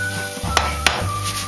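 Pancake batter fries in a pan with a steady sizzle over a low hum, broken by two sharp clicks of a utensil against the pan.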